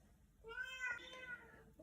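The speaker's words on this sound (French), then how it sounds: "Coucou le chat encore." A cat gives a single drawn-out meow, quiet and close, with a low background hum indoors.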